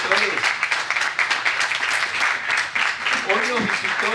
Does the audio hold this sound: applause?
yes